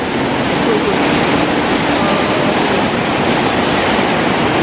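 Dense, steady roar of heavy rain pounding a roof, constant and loud with no breaks.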